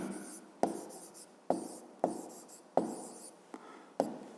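A pen or pencil writes a maths answer by hand on paper, close and quiet, in a series of short scratchy strokes with sharp taps at the start of each, about seven strokes over four seconds, with no talk.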